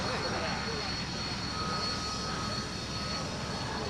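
A propeller aircraft's engine drones steadily overhead during an airshow display, a constant, moderately loud hum with no talk over it.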